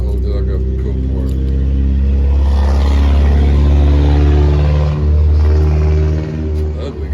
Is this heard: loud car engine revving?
yes